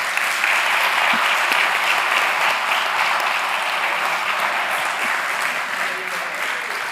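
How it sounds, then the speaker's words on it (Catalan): An audience at a round-table session gives steady, full applause that holds at an even level for about seven seconds with no break. "un fort aplaudiment per a ells"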